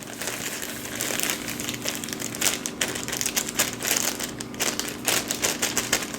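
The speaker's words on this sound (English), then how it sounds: "I'm just going to go ahead and empty this whole thing into my mixing bowl" A packet of cake mix is shaken out into a mixing bowl, giving close, continuous papery crinkling with soft rustling and scattered sharp ticks, and no speech over it.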